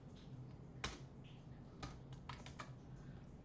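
Typing CSS code on a computer keyboard: sparse, soft key clicks, a few isolated taps followed by a short cluster of keystrokes, quiet over a steady low background hum.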